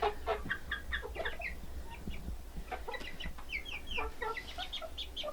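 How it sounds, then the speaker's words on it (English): Several chickens cluck and chatter steadily throughout, with short, bright calls overlapping at close range. "we've put the chickens in here"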